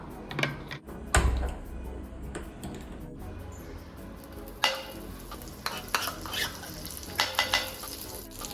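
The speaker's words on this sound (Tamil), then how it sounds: "பிரெட் நல்லா 2 சைடும் நல்லா ரோஸ்ட் ஆகணும்" Bread roasting on a hot pan for a tea-stall style bread omelette, with soft sizzling broken by sharp spatula clicks and scrapes in an irregular rhythm, close and moderately loud without speech.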